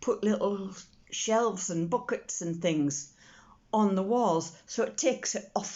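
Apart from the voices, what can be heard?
None of the usual background noises is heard.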